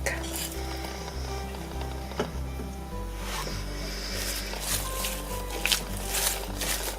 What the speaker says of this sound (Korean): 마늘종에 먼저 이렇게 양념장을 하시고 아까 채를 썰어 놓은 사과와 파프리카를 넣어주면 돼요